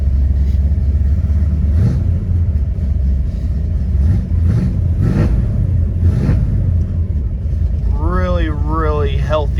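A 1967 Chevrolet Nova's 355 V8 engine with Holley Sniper fuel injection idles after starting with a deep steady rumble, with a few thumps along the way and a rising whine near the end.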